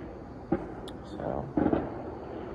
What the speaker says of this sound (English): The fireworks are finally going off.